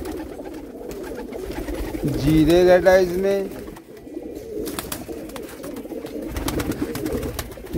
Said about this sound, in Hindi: काफ़ी बड़ा लॉट बड़े और ब्रीडर कबूतर